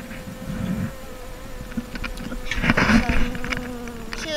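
A yellow jacket queen buzzes steadily close by, a continuous insect drone that rises in loudness near the middle with no speech.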